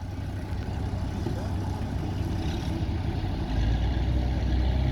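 Deep, steady rumble of a pulling tractor's engine idling at a practice tractor pull in Corowa, close and continuous, growing slightly louder near the end.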